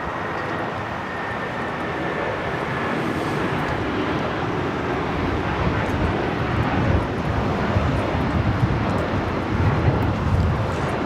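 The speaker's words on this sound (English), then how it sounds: "This is United Airlines 1069 taking off to Chicago on the 757-300." United Airlines Boeing 757-300 taking off from Los Angeles International bound for Chicago, a distant, moderately quiet jet rumble that builds slowly and steadily, with no speech.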